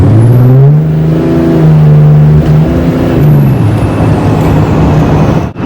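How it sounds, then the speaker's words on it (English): A drift car's engine revs hard and steadily, with its tone rising and falling as the wheels spin and the transmission slips. The engine is loud and close, with no talking. "that time we did get a little bit of wheel spin, but I think we got more transmission slip than wheel spin"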